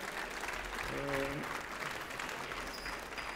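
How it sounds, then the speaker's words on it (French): An audience applauds chef Franck Reynaud after a cooking demonstration of perch fillet recipes, with steady, dense clapping throughout and a brief voice rising within it. "On peut l'applaudir bien fort."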